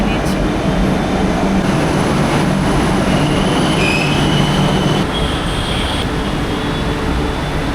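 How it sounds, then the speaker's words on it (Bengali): A Kolkata Metro train running underground, with a loud, steady rumble from inside the carriage, faint wheel squeal and a brief brighter screech near the middle. "এখন আমি বসে পড়েছি মেট্রোতে,"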